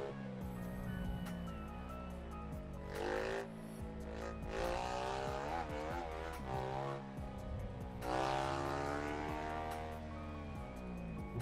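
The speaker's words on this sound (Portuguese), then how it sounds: "O ronco da moto é bruto" A Honda Africa Twin motorcycle engine roars and whines through rising and falling revs, loud and sustained, with gear shifts and occasional tire noise in the racing game RIDE 3, heard from first-person view.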